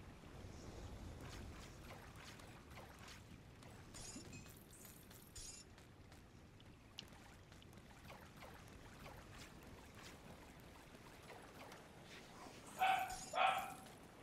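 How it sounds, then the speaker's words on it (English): A dog barks a few times toward the end, fairly faint and distant, rising briefly above a constant background of room noise and game sound. "Bark, bark, says the dog."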